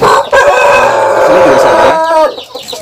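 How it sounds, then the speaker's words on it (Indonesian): A Pelung rooster crows loudly and close by in a village chicken coop, one long drawn-out call with harmonic layers, followed by a brief trailing note. "Di sini ada pelung. Ini juga galak ini."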